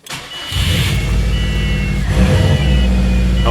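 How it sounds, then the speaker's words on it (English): Subaru car engine started from the driver's seat, a brief crank catching into a steady, loud idle with a slight rev surge midway, close and continuous. "And then we'll start it from the inside."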